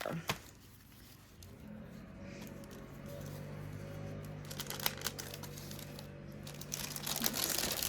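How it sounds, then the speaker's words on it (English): Small paper pieces rustle and crinkle as they are slipped back into a little envelope during papercraft work on a pop-up card, soft close handling noises with faint speech in the background. "I think I'm going to put it back in that little envelope there."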